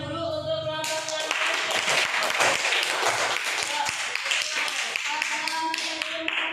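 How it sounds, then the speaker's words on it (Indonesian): Students clap for a group in a classroom, a burst of scattered hand claps and taps that starts after a short voice and continues loudly to the end. "beri tepuk tangan dulu untuk kelompok yang"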